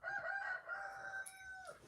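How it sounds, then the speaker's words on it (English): A rooster gives a single long crow, its drawn-out call held close and clear for nearly two seconds before trailing off, with no talking over it. "While my rooster periodically crows"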